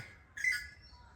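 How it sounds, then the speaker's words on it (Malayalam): A single short, bright bird call sounds briefly from nearby foliage, standing alone over a quiet low background hum. "ഒരു കറുത്തട്ടൊരു കിളി"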